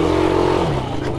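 An ATV quad engine revs hard and steady while the rider pops a wheelie on a dirt motocross course, a loud continuous close-up roar with a slight rise at the end.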